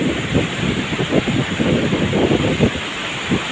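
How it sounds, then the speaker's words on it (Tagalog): Big ocean waves wash against the shore in a steady, loud roar of surf, with gusting wind across the microphone and no talking. "lalaki ng mga alon"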